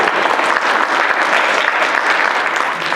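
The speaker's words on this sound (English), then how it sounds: "Both of my lovely assistants, a round of applause." A lecture audience gives loud, sustained applause, a thick, even wash of many hands clapping close by for a few seconds without speech.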